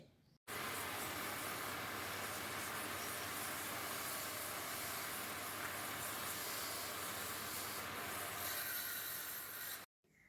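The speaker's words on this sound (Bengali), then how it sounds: "তারপর দেখুন এখানে ঘষা হচ্ছে ভেতরটা এবং বাইরের দিকটা দুটো পিঠি ঘষে ঘষে মসৃণ করা হচ্ছে" A coconut shell is rubbed smooth inside and out, giving a continuous, dense abrasive roar that stays steady and close from start to finish.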